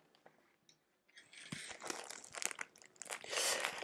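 A crinkly plastic package of skeins of yarn is torn and opened by hand, giving bursts of loud crackling and crumpling that grow denser and louder toward the end after a quiet start.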